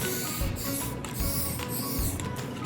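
A steady hiss of spray paint from an aerosol can, continuous and fairly close, with a few brief pulses in the flow, spraying an epoxy board.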